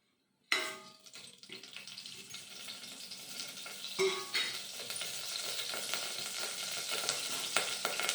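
Fennel seeds, cloves, cinnamon and star anise dropped into hot oil for tomato rice burst into a sudden loud sizzle after a brief silence, then keep crackling steadily with stirring scrapes, close by.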